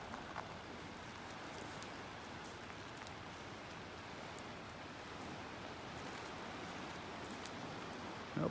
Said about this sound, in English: We're getting rained on here.